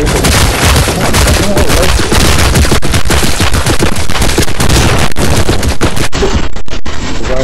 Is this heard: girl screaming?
no